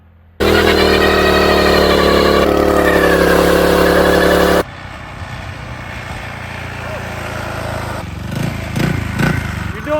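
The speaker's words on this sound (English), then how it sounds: "I guess that's him down there doing burnouts" A quad's engine revs hard and loud up close for several seconds, then cuts to a distant, quieter engine drone doing burnouts, with rising bursts of revving near the end.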